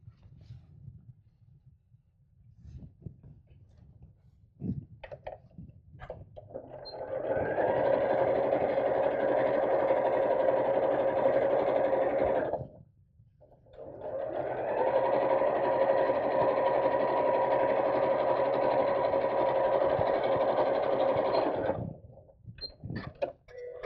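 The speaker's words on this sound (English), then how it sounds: "we'll sew straight across the bottom like we did before" A sewing machine stitches straight across the bottom of a fabric craft bag in two sustained bursts of rapid, even whirring, separated by a short pause, with faint handling noises before and after.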